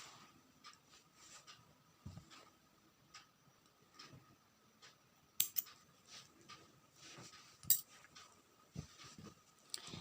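Scissors snipping crochet yarn after a chain stitch on a child's poncho: quiet, close snips and small clicks at irregular intervals, two brighter metallic snaps standing out over faint background noise.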